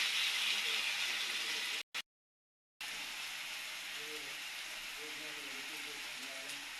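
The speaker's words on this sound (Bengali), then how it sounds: "এবার ভালো করে ভাজা ভাজা করে নিব।" Chopped tomato with curry leaves fries in a pan with a steady hissing sizzle, broken by a brief silent gap, while a faint voice murmurs underneath.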